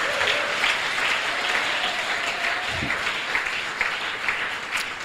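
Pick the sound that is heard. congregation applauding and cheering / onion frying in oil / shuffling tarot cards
congregation applauding and cheering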